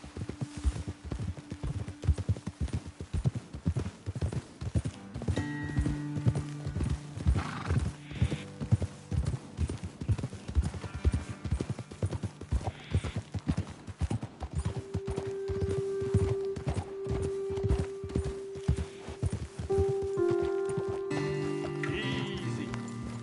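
Horse hooves clip-clop in steady rhythm on the ground in the Red Dead Redemption 2 video game, with occasional snorts and a whinny over a low ambient music bed, moderately loud throughout.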